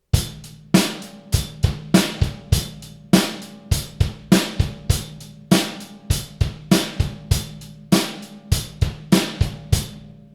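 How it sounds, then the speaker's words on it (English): A close drum kit lays down a driving rock chorus groove, kick and snare alternating under steady cymbal hits, repeating evenly with no voices. "he changes the rock beat to sound like this"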